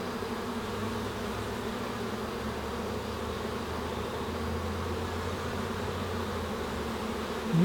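Honey bees buzzing around an open hive during swarm prevention work, a dense, steady drone of many insects close by, continuous with no speech.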